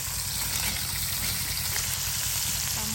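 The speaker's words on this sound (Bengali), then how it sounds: "প্রথমে মাছগুলো ভেজে নিচ্ছে" Pond fish, large fish alongside small tengra, fry in hot oil in a pan while home cooking is underway, giving a steady, close sizzle throughout.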